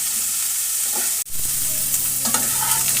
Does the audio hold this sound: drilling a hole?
no